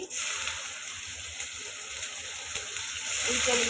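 Onion paste sizzles in a pan for a koi fish curry, a moderate continuous hiss with small spatters, and a faint voice murmurs toward the end.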